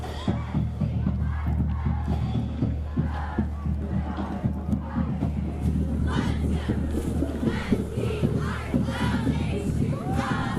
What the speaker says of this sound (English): cheering loud and proud for their pioneers